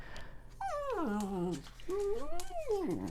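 A dog whimpers and whines in two drawn-out, rising and falling cries, close and fairly loud, with no talk over them.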